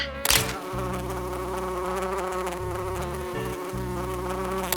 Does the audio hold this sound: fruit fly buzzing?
yes